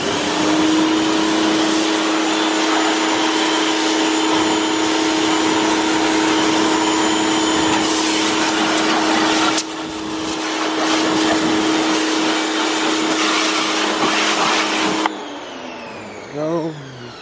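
A vacuum cleaner works inside a drift car's interior, a steady loud whine running most of the clip with shifts as the nozzle moves, then cutting off near the end.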